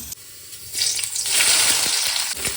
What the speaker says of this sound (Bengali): পেঁয়াজটা লাল লাল ভাজা হয়ে গেলে এবার দিয়ে দেবো কাঁচা লঙ্কা